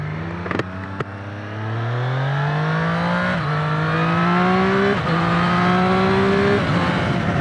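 A Triumph Street Triple RS 765 accelerates hard, its engine note climbing steadily and dipping briefly at each quick-shifter upshift, two clean shifts heard close and loud over wind noise.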